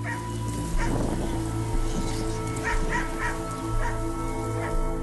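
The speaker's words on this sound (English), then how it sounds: "2 greyhounds straining on leads" Two muzzled greyhounds on leads whine, yip and give short barks again and again as they strain forward, loud and close over a constant low mechanical hum.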